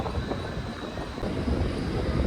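Steady loud rumble of a train leaving Nava Sheva station in Navi Mumbai, broadband and continuous with a faint high whine, no voices.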